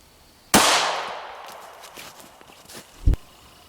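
A CZ P07 pistol fires a single loud, sharp shot of IMI 115gr Di-Cut JHP into ballistic gel, followed by a decaying ring and light handling clicks, then a second thump.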